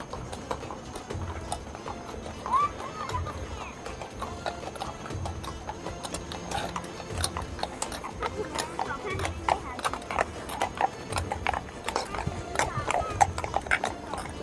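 Horses' hooves clip-clop repeatedly on a city tour of Kuala Lumpur, Malaysia, in a steady walking rhythm amid busy outdoor street ambience, with voices talking throughout.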